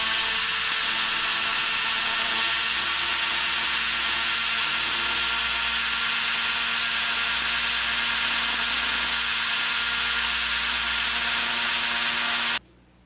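A small high-pitched drill bores steadily into a Zamac die-cast model car casting, whining loud and continuous for over twelve seconds before stopping abruptly.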